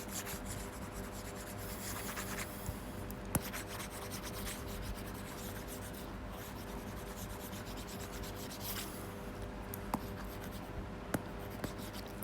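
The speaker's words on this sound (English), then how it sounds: "So now I'm going to erase this one first" An eraser rubs writing off a board in a steady, soft scrubbing stroke that runs for several seconds, with a few small knocks along the way and no talk.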